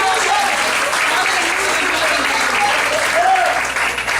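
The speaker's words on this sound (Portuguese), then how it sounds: "Pode aplaudir." Dense applause from a church congregation, loud and continuous throughout, with voices mixed into the clapping.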